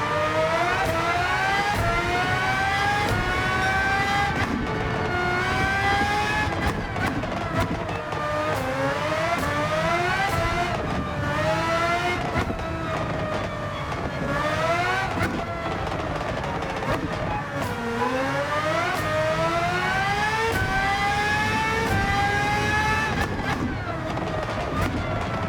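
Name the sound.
race car engine revving in Gran Turismo 7 video game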